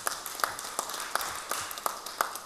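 Scattered applause from a church audience, a handful of sharp claps recurring at an uneven pace over a steady soft wash of hands, moderately quiet and without any voice over it.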